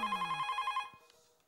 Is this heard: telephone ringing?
yes